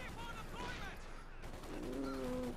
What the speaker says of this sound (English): We've got light infantry guns blasting away, machine guns.